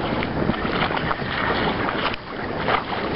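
Wind rushing steadily past a microphone aboard a Kingfisher 20 sailboat off the east coast of Anglesey, a loud continuous roar with water wash beneath and a short lull near the end.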